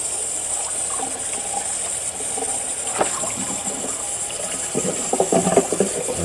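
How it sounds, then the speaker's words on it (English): Pork ribs for St. Louis style rinsed under a steady stream of cold running water, a continuous moderate gush and splatter with a few brief louder splashes near the end, no talking. "we're going to rinse off these ribs with"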